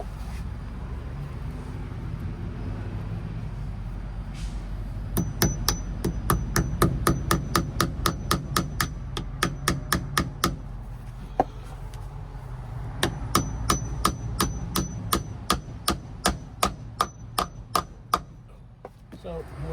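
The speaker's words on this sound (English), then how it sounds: "Grabby gonna hammer this part in" Hammer driving a shelf into place on a catio being built for rescued cats, a long run of sharp, evenly paced metallic blows in quick bursts with short pauses, close and loud over a faint low background.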